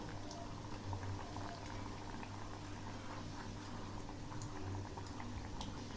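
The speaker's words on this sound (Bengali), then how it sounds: "এগুলি আমি একদম লো আঁচে ভাজবো" Homemade bakery-style biscuits fry two at a time in oil over very low heat, making a faint, steady bubbling hiss with no distinct breaks.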